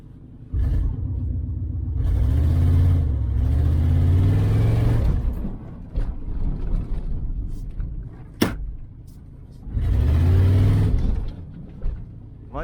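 A 1994 GMC Stepside pickup truck pulls away in drive, its engine rumbling low and rising in two separate accelerations with a quieter idle stretch and a sharp click between, heard from close by.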